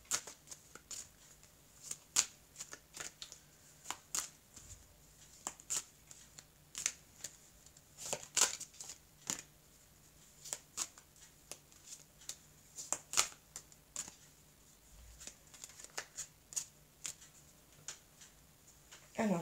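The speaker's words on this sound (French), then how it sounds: "Alors je vais couper le jeu et je vais donc compléter le jeu." A deck of oracle cards being shuffled and cut by hand, with a long run of quick, crisp riffling snaps and slaps at an irregular rhythm, close and fairly quiet, with no talking.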